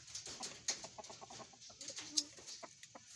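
Chickens cluck in quick, soft bursts at close range, with a few sharper squawks standing out against a quiet outdoor background.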